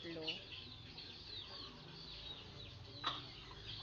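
A brooding hen sitting on a clutch of eggs gives soft, low clucks and short murmuring calls, faint and close, with a sharper cluck near the end.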